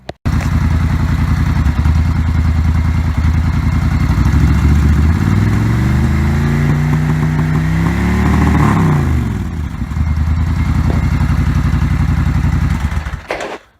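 Suzuki Intruder 1400 V-twin motorcycle idling during a carburetor sync, a steady, close, lumpy engine rumble that briefly rises in pitch mid-clip as the throttle is blipped, then settles back to idle before cutting off.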